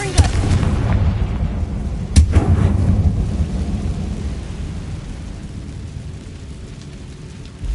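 A Confringo spell blast in Hogwarts Legacy: a heavy rumbling boom that starts at once and rolls on, with a sharp crack about two seconds in, then a slow, fading low rumble.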